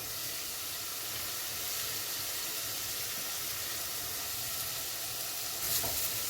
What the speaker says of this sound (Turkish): Patates ve havucumu da tavaya alıyorum.